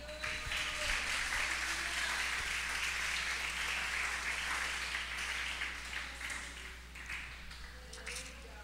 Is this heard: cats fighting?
no